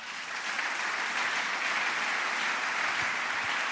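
A church congregation at a Sunday service applauds, a steady dense wash of many hands clapping throughout, moderately loud and unbroken, with no talking.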